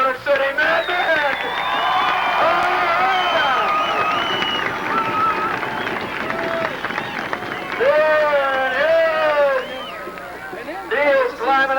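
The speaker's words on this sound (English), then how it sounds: "How about a nice round of applause for the Motor City Madmen?" A grandstand crowd at Flat Rock Speedway cheers and applauds after a school bus figure-eight race, with a loud announcer talking over the roar throughout.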